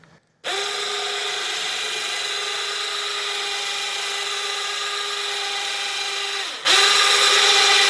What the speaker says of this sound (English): I will say that winch is crazy loud.